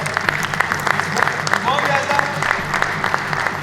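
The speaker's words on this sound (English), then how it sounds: "please, a round of applause." Sustained applause from an audience at a fire and security bravery awards ceremony in Goa, with dense clapping filling the whole stretch at steady loudness, the announcer's voice audible underneath.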